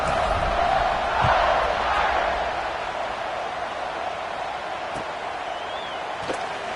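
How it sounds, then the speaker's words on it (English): Football stadium crowd buzzing after a score at a Notre Dame versus USC game, a steady, dense roar of many voices filling the space at fairly even loudness throughout. "this crowd is buzzing after that last score"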